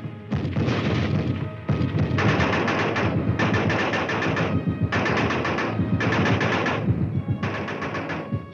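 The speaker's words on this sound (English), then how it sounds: "A machine gun team fights a risky and vital delaying action." A machine gun fires during a U.S. Army field exercise, six loud, rapid bursts about a second long each, separated by brief lulls over a heavy rumbling background.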